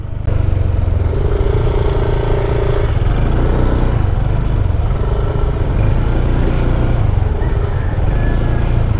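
Honda PCX 160 scooter grinding along a rough off-road dirt track, its engine droning steadily and loud close by, with rattling clatter from the bumpy ground throughout.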